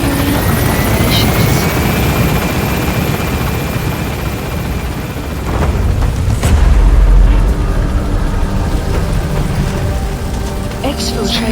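A helicopter gains altitude in Metal Gear Solid V, its loud steady rotor roar rising for the whole stretch, with a deep boom midway and game voices under it.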